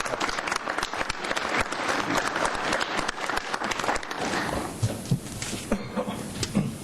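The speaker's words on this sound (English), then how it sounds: "Let's give them all a big round of applause." Audience at a city council meeting applauds the Rotarians, a dense, steady round of clapping that continues for several seconds before thinning into scattered claps near the end.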